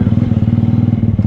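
A motorcycle engine fitted with a Pietcard CDI idles in a steady, loud pulsing rhythm, held near and alone while the rider eases into a controlled launch without over-revving.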